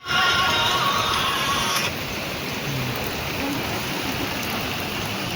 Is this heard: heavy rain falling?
yes